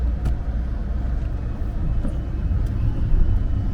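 Truck fitted with a swapped Vortec 4200 engine driving out, a loud, close, low engine rumble with rough broadband noise and a few brief knocks, steady throughout and with no talking.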